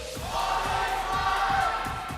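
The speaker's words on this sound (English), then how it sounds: "give a warm round of applause to TNC Pro Team" A large crowd at an MPL Philippines esports event cheers and roars loudly in a sustained wave of shouting, with some clapping, and voices rise above the din.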